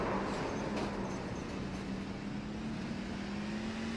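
A NASCAR truck engine at Darlington Raceway cruising in fourth gear to cool down, a steady droning hum with a constant low tone that rises slightly, heard at a distance under broad roaring noise.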